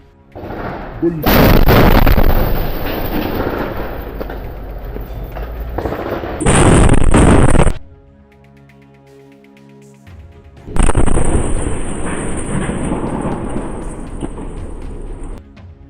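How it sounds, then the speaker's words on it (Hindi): A booby trap explosion strikes a tank in war footage, heard as heavy roaring blasts and rumbling bursts with sharp rises, a brief lull, then another sustained loud burst. "आईडीएफ के रास्ते में लगे एक बूबी ट्रैप को भी उड़ा दिया जाता है, जिसकी चपेट में आईडीएफ का एक टैंक आ जाता है"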